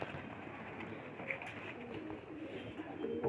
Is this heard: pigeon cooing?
yes